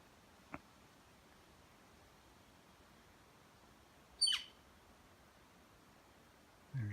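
A single shrill, descending bird call sounds once from a distance against a quiet outdoor hush, with a faint click before it and a low rustle afterward.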